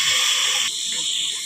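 Ginger garlic paste hits hot ghee in a pan while ghee rice is being made, giving a loud, steady sizzling hiss that thins slightly partway through.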